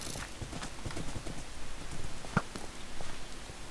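Horse hooves clip-clop in the Minecraft video game, a steady rapid run of close, moderately loud hoofbeats.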